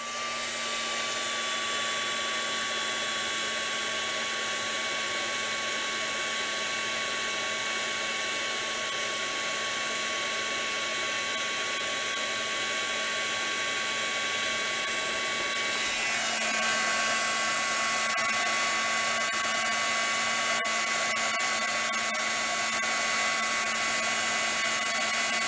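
A handheld heat or hair dryer blows steadily to dry homemade embossing paste at a craft table, a loud continuous whine and rushing air that rises in pitch and volume partway through, with no talking.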